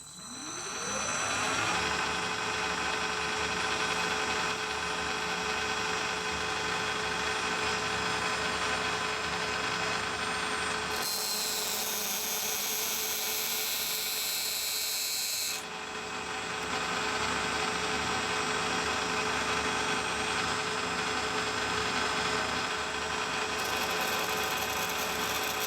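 Metal lathe cutting a thread undercut in brass, with a steady, continuous machine whine and hum. A harsher, brighter cutting noise rises in the middle, then the running tone returns.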